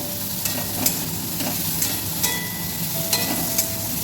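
Pumpkin frying in a pan, an even sizzle under regular scraping strokes and light clinks of a spatula stirring it, close and without talk.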